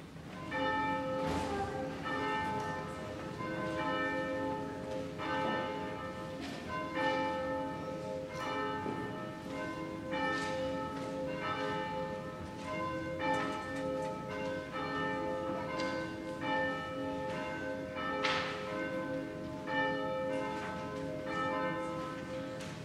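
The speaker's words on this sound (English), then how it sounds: "we begin with the ring of the bells" Church bells ring at the start of a Sunday worship service, a continuous peal of overlapping strikes with long ringing tones, steady and fairly loud with no voices.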